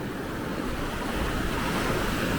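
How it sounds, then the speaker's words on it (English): Ocean waves wash steadily onto a rocky beach at Hergla, a continuous close roar of surf with wind rumble on the microphone and no talking. "Come on, waves."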